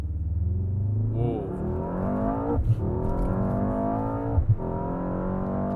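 A 2024 Mercedes-AMG S63 accelerates at full throttle, its engine note climbing steadily with two brief upshift dips, loud and close, while someone briefly exclaims over it.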